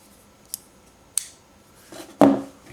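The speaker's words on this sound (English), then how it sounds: "when you open it, I know I've already said that, it sounds like a high quality snick." A titanium Wilkin's Grip folding knife snicks open with a few sharp, close metallic clicks, then a louder, fuller snap near the end.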